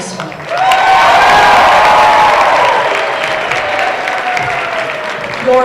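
Home crowd at a Class A girls' high school basketball quarterfinal, North Clarion hosting Clarion, erupts in loud sustained applause and cheering with shouts and whistles, holding strong for several seconds before easing slightly.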